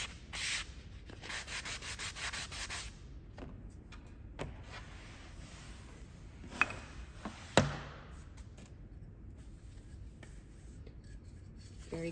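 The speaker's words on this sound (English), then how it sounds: "Sanding the top." Dry, scratchy rubbing of a sanding block worked over the top of a glass bud vase, coming in rapid close strokes for a few seconds, then scattered lighter scrapes and a couple of sharper knocks.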